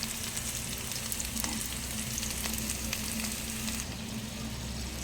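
Corned beef frying in a pan with a heap of onions, a steady close sizzle with faint scraping stirs, no voices.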